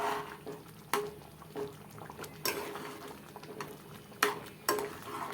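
A spoon stirs potato masala mixed with roasted gram flour in a simmering pot, with soft bubbling and scraping throughout and several louder clinks against the metal.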